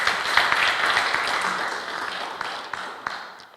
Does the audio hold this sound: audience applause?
yes